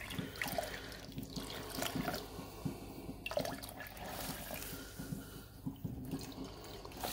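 Acid slowly poured onto gold-plated BGA chips for gold recovery, giving a continuous faint liquid splashing and fizzing wash with small bubbling pops throughout.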